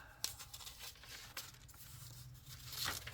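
Paper torn away during a crafting project, several sharp ripping bursts and crinkles, close and fairly quiet, with no voice.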